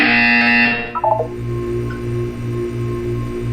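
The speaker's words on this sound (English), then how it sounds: "You will hear a buzzer. When you hear the buzzer, look up at the ceiling." A harsh electronic buzz sounds in Portal 2, then a short descending blip sequence gives way to a low repeating pulsing hum.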